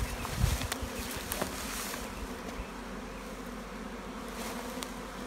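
Honey bees buzz steadily around newly placed hives where robbing is under way, a dense outdoor hum of many insects with occasional louder passes near the ear.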